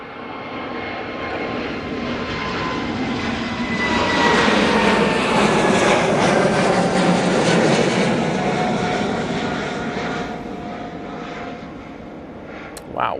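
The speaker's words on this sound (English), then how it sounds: "Let's get this Lufthansa City, I think it is, going off to Munich. It's an A320neo." Lufthansa City Airbus A320neo taking off from Manchester Airport for Munich, a loud engine roar that swells to a peak mid-clip and slowly fades with a falling whine as the jet climbs away.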